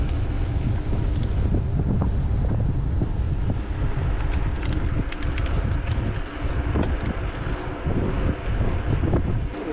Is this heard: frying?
no